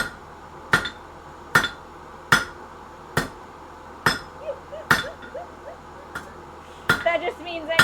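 Blacksmith's hammer strikes metal on an anvil in sharp, ringing blows about once every second, with a few quieter clinks and soft background noise between hits.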